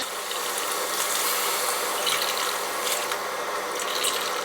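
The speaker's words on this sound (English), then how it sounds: "So now we're adding some water." Three cups of water pour into a pot of Aloo Gobi, an Indian potato and cauliflower curry, making a steady, fairly loud broadband hiss and rush that holds evenly for the whole span with no voices.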